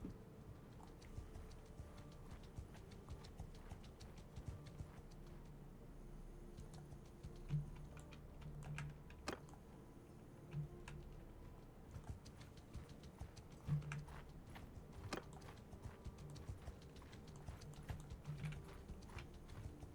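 Hooves of a horse in the video game Mount & Blade II: Bannerlord clip-clop in a steady, even rhythm, faint and distant throughout, with no voices.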